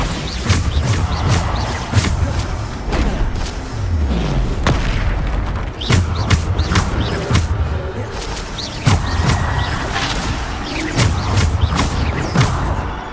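Repeated booming blasts of the Bombarda explosion spell in the video game Hogwarts Legacy, loud and close, bursting at irregular intervals over a dense game soundtrack with sharp crashes between them.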